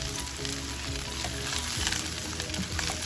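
Chicken bhindi simmering in a pan on low flame, an even close sizzle and bubbling under faint background music, with no voices.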